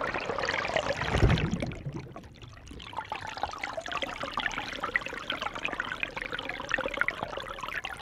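Continuous watery bubbling and gurgling with a muffled, submerged quality, a louder low rumble near the start, then steady fizzing and trickling throughout.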